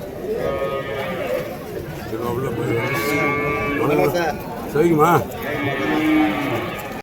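Cattle at a cow market in Vaniyambadi moo and low repeatedly, nearby and loud, over a busy crowd hum with people talking.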